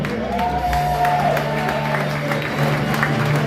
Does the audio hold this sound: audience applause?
yes